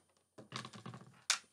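Keys on a Yenkee YKB 3100 Ambush USB gaming keyboard are pressed during an unboxing, giving a quick cluster of close, light plastic clicks. One sharper, louder click follows.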